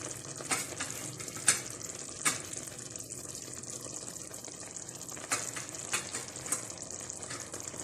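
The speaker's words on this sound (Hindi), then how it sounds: "यहाँ कुटी हुई अदरक और हरी मिर्च डाल देते हैं" Crushed ginger and green chillies frying in chicken karahi cooked village style in a clay pot, a steady close sizzle with stirring scrapes and a few sharp clinks, no talking.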